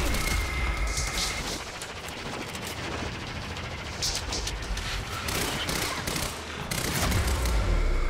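Steady gunfire from a gun in the video game Quantum Break rattles on loudly through the whole stretch as rapid repeated shots over constant action noise, with a little talk underneath.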